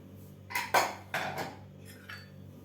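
A pressure cooker lid being removed after the cooker has cooled, with wheat kheer inside: a few close metallic clanks and scrapes in quick succession, then softer knocks, with no talking.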